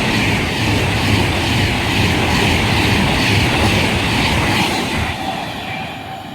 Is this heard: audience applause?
no